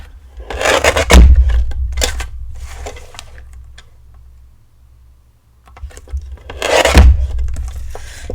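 Card stock being trimmed down to size on a paper trimmer during card-making, heard as a few separate rasping, scraping slides of the blade, close and fairly loud, with quieter pauses between them.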